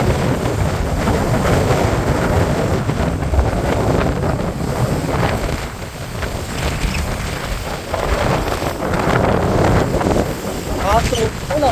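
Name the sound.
strong wind over rough sea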